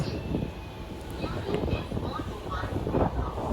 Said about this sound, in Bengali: কাঁটায় কাঁটায় একটা দশে গোঘাট থেকে আমাদের ফেরার ট্রেন ছেড়ে দিল